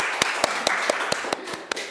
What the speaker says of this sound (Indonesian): Tepuk tangan dulu Kak.